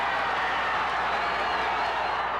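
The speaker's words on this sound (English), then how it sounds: "Simpson supporters in the crowd outside the courtroom let out a cheer" Crowd outside a courtroom cheering at the O.J. Simpson verdict, a faint, distant wash of cheers and clapping heard briefly in news footage.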